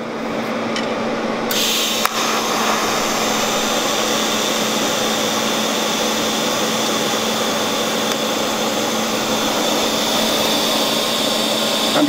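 A short welding arc is followed by post-flow shielding gas held on the end of the weld; a steady, close, hissing buzz runs unbroken for the whole stretch, with no voices.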